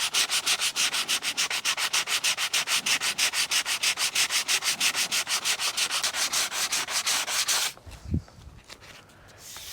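Hand sanding on the siding of a vintage truck camper during paint prep, a fast rhythmic back-and-forth rasp with even strokes, close and loud, then stopping abruptly near the end.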